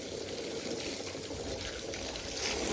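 Water splashing and pouring while a diesel drum is washed on a farm, a continuous close gushing and trickling with no talk.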